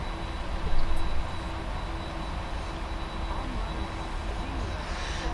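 Boeing 747 under heavy takeoff power on a short runway of less than 8000 feet, a steady broadband jet roar with a faint whine, constant and dense with no talk.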